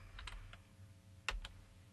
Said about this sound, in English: you can type it in yourself